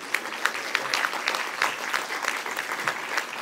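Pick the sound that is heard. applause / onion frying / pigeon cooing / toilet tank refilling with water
applause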